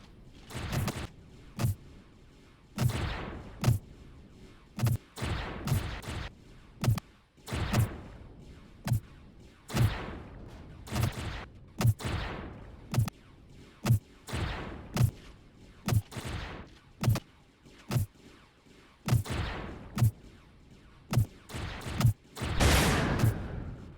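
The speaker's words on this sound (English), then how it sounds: "Now my turrets are firing finally." Spaceship turrets in Empyrion: Reforged Eden 2 fire a long series of loud, punchy blasts with irregular rhythm, some shots clustered closely and others spaced out.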